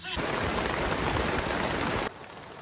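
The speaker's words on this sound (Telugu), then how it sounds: "వాన కంటిన్యూగా పడుతూనే ఉందండి" Steady rain falls in a dense, even hiss for about two seconds, then cuts off to a quieter background.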